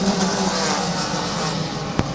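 Race cars circle the track at Midvale Speedway, a continuous loud engine roar with a dense rumble that holds steady for the whole stretch, plus a brief sharp knock near the end.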